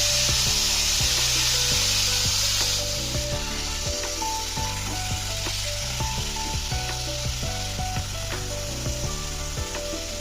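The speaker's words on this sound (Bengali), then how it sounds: "চিকেনের পিসগুলো এর মধ্যে দিয়ে দেবো, তাহলে হালকা ভাজা ভাজা হয়ে যাবে" Chicken pieces fry in oil with salt, a continuous close sizzle and hiss running under steady background music with a rhythmic beat, with no talking.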